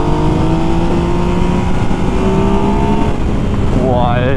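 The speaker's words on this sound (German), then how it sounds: "was eine krasse Beschleunigung" A 115 hp vehicle's engine revs hard under strong acceleration, loud and close, the pitch climbing steadily before dropping and rising again near the end.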